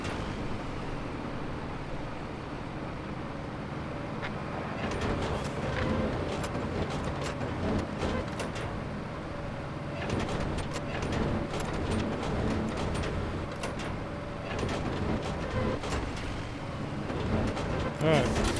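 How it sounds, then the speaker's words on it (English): A dump truck engine runs continuously, a low, steady rumble much like a train going by, with scattered rattling clicks and knocks over nearly nineteen seconds, heard at a moderate distance and fairly quiet. "it's my dump truck running"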